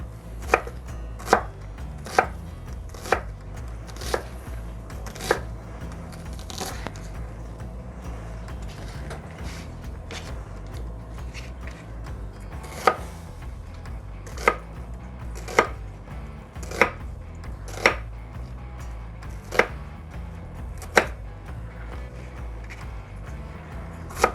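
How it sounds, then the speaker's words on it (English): A knife chops an onion rhythmically on a cutting board, irregular bursts of sharp knocks over a low rumbling hum. "this ain't the proper technique for chopping an onion"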